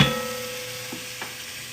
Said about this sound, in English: I'm going to give my thing a quick stir, because I don't want my garlic to burn